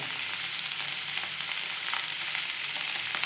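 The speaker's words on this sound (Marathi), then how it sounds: "आता आपण भाजी परतून घेऊया चांगली याची हलवून घ्यायची" Potatoes frying with salt in a pan for potato bhaji, a steady, close, hissing sizzle that fills the whole clip, with faint stirring scrapes underneath and no voices.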